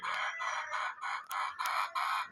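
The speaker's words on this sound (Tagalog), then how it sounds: "Mga boss, ayan ang dadali natin mga manok" Chickens and roosters cluck and call in a dense, steady chorus of repeated bursts, close and fairly loud, on a poultry farm where fowl are kept in pens.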